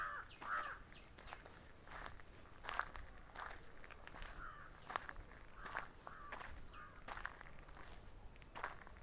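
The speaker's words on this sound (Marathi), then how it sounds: "पावलांचा आवाज पण येतोय माझ्या." Footsteps crunch along an outdoor path in nature on a morning walk, faint and close in an irregular walking rhythm, with occasional crow calls in the background.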